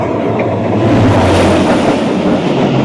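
Karachi Express passenger train speeding past Landhi station, a loud, continuous roar of rolling wheels and rattling carriages with steady rumble throughout, heard close from on board.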